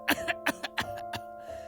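A wet, rattling cough from a character in the horror game Tortured Artist - It Paints Me comes in several short, close bursts, loudest at the start and fading into quieter hacks over a faint steady tone.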